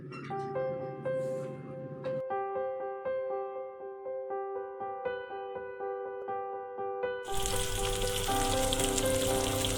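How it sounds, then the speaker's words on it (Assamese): Pointed gourds coated in salt and turmeric are fried in a kadai. Steady tonal music plays first, then loud, dense oil sizzling starts abruptly and carries on under the music. "এতিয়া নিমখ হালধি সানি লৈ পটলকেইটা ভালদৰে ভাজি ল'ম।"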